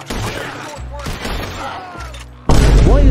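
Gunfire in the video game Red Dead Redemption 2: a string of close, heavy shots with thuds and impacts, ending in a louder, denser burst, with game voices faintly underneath.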